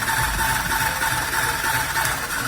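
A slim cigarette rolling machine runs steadily, giving a constant close mechanical whir and ratcheting clatter with no talk over it.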